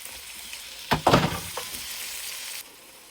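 Garlic, onion and tomato sizzling in a hot pan, with a burst of louder frying and stirring crackle early on that settles into a steady, fairly quiet hiss before cutting off near the end.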